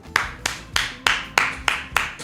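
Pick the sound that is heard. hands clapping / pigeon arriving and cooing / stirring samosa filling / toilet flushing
hands clapping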